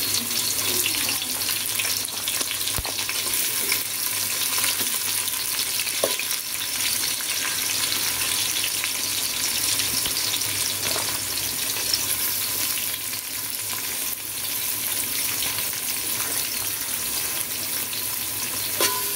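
Big chopped onions frying in oil for a vegetable biryani, a loud steady sizzle and hiss that runs unbroken throughout with a few faint stirring scrapes.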